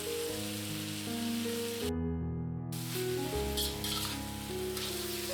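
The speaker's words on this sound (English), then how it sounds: "Stir the mushrooms briefly, then add the Napa cabbage." Mushrooms and Napa cabbage sizzle steadily in a hot pan while being stir-fried, a continuous close frying hiss with stirring and no talking.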